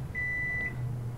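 A microwave oven gives two clear electronic beeps, a longer steady tone followed by a second one just starting, over a low hum.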